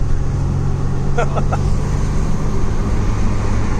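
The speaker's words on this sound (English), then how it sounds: "Road testing in the Prado." Interior of a Toyota Prado on a road test drive, with a steady low engine and road rumble filling the cabin throughout, briefly marked by a few faint higher chirps.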